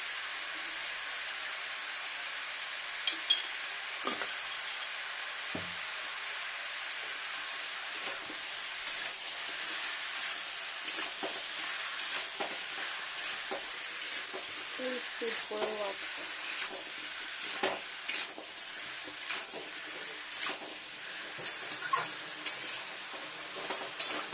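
Onions sautéing in a pan for a fish head and raw pumpkin curry, giving a steady soft sizzle with occasional faint stirring clicks and scrapes, low and even throughout.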